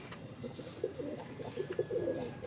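Soft, repeated cooing of breeder pigeons close by, a series of low throaty coos over a faint hiss.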